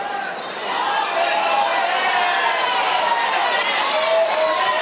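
Crowd at a police rugby league match at Leichhardt Oval, a steady, loud wash of shouting and cheering that swells after a quieter first second and holds throughout.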